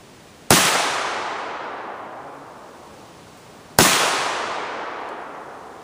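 A Remington Mohawk 48 shotgun fires slugs outdoors: two loud, sharp blasts about three seconds apart, each followed by a long, fading echo.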